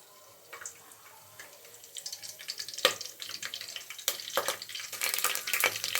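Curry leaves and onion frying in oil in a pressure cooker for chicken curry, a steady close sizzle with scattered sharp crackles and spatters growing louder and busier toward the end, no talking.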